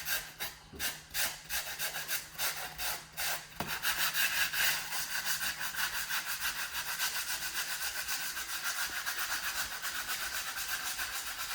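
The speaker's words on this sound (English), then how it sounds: "I started by sanding everything smooth and preparing the surface for its new finish." Rhythmic rubbing strokes over a particle board furniture top give way to a continuous rough, buzzing sanding noise that runs steadily and fairly close.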